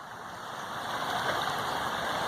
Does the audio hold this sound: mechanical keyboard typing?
no